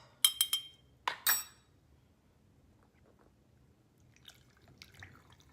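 A few quick clinks and taps of a utensil against glass, in two short bursts, followed by quiet with faint small rustles. Stirring homemade vanilla extract in a glass jar.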